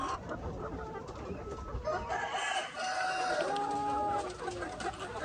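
Large upgraded native chickens on a farm, with hens clucking throughout and a rooster crowing loudly in long drawn-out calls through the middle, close and unobscured by talk.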